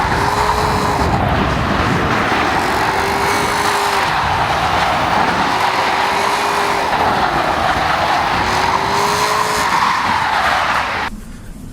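A 2014 Buick Regal GS AWD on snow tires launched hard on ice, the engine roaring loudly and steadily with rising, repeating gear sweeps and tire squeal close by, cutting off abruptly near the end.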